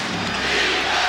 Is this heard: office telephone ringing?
no